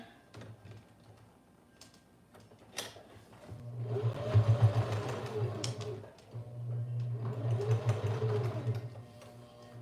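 A sewing machine with a Teflon presser foot stitches fabric in two sustained runs, a steady mechanical whir with rhythmic clatter, preceded by a few clicks and handling sounds.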